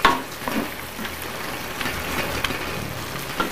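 Vegetables for yakisoba fry in a hot pan with a steady crackling sizzle and occasional soft stirring scrapes, close and continuous with no speech.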